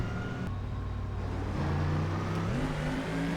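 Race cars accelerating at the green flag in the rFactor 2 video game's IMSA race at Daytona, engines revving up in rising steps, fairly close and steady, with no voices.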